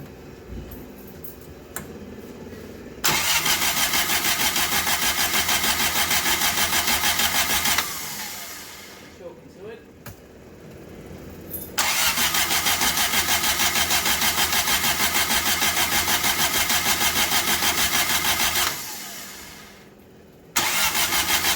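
A 1972 Fiat 850 Spider engine with a primed carburetor cranking in two long, loud, steady starter bursts, each several seconds, separated by a quieter pause with faint rumbling, failing to catch.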